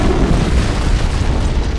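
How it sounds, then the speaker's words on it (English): Antimatter charge detonating aboard a starship in Halo: Combat Evolved, a loud, sustained low rumbling boom that rolls on without a break for under two seconds, heard alone. "I'd guess an antimatter charge."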